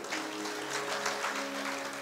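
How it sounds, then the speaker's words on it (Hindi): Steady applause from an audience at a Shiv Mahapuran religious discourse, a dense wash of clapping that holds evenly for a couple of seconds, with a faint tonal hum underneath. "एक बार ताली जरूर बनती है।"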